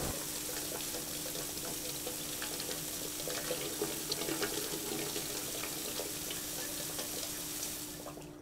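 Water runs steadily over sturgeon caviar being washed in a factory, a continuous close splashing and hissing flow lasting about eight seconds before easing off at the end.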